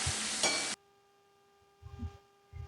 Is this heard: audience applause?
no